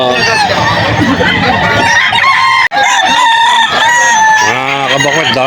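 Many chickens cluck and squawk close by while a rooster crows loudly at a pet market in Bocaue, overlapping in a busy, noisy chorus.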